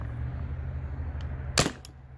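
A Spyder Rodeo paintball marker fires a single loud, sharp shot close by, with a faint earlier pop, over a steady low hum.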